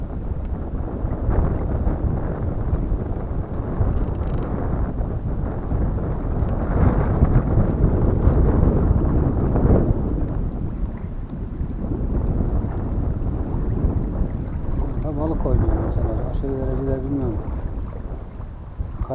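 Heavy low rumbling gusts of wind striking the microphone outdoors while float fishing, swelling and easing over time, with a brief voice talking near the end.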